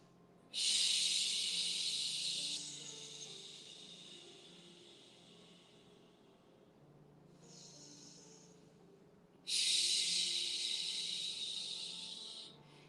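Slow, deep breathing while a yoga plank is held. Two long, airy, hissing breaths stand out close up, with a softer, quieter breath between them, against a low background hum.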